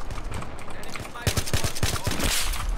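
Rapid bursts of AN94 rifle fire in Battlefield 3 on the Canals map, a string of sharp close shots after a second of game ambience, under chatter from players.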